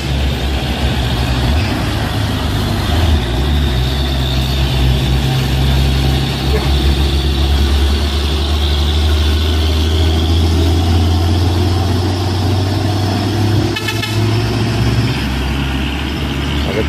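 Heavy Pertamina and Hino trucks rumble loudly and steadily as they roll past close by, a deep low drone with a brief break near the end.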